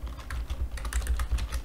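Typing on a computer keyboard while coding in Lisp: a quick, uneven run of close, crisp key clicks with a low hum underneath and no talking.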